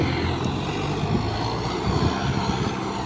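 A tractor engine drones steadily while pulling across a hillside field, a continuous loud low rumble with a buzzing mechanical hum and no pauses.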